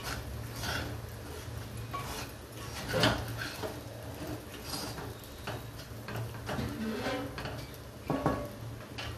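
Sabudana khichdi being stirred in a pan, with soft scraping and clinking of a utensil against the metal in an uneven rhythm, close by and fairly quiet over a steady low kitchen hum.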